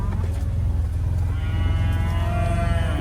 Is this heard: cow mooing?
yes